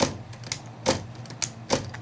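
Keys struck on a 1936 Underwood Universal manual typewriter, a few irregular sharp clacks with a gap between each, close and crisp, over a quiet background.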